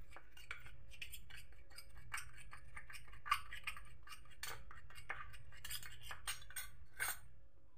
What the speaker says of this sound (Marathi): चांगलं मिक्स करून घ्यायचं आहे एकदम.